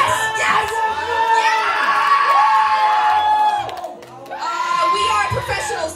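A college show audience at Goucher College screams, whoops and cheers in loud sustained bursts, dipping briefly before surging again, with shouting voices throughout.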